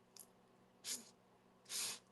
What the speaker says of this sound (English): Sniff at the top.